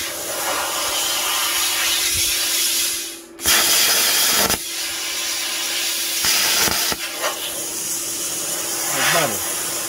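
A Tooliom 50 amp plasma cutter slices through thin sheet metal about 1/16 to 1/8 inch thick, giving a loud steady rushing hiss broken by a brief cutoff and sharp restarts, with crackling bursts.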